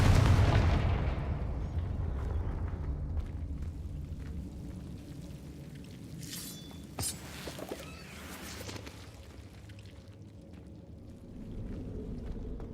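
A Confringo blasting spell explodes in the Hogwarts Legacy video game: a loud, close boom opens the clip and fades into a long rumbling tail, with scattered crackles and a sharp burst partway through.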